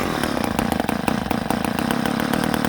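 An old chainsaw that had sat unused for over twenty years runs loud and close, its small two-stroke engine buzzing steadily with rapid rhythmic pulses throughout, alone without talk.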